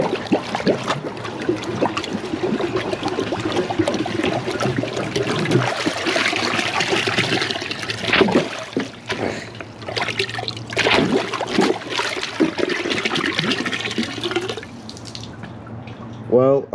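A 1977 Briggs Abingdon toilet with a high bucket tank flushes, water rushing and gurgling loudly for many seconds before trickling away, with brief voice sounds and clatter mixed in near the end.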